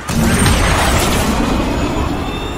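A missile strike explosion in the Modern Warfare video game, heard as one loud, sustained rumbling boom that fills the whole stretch and slowly fades, with no voices.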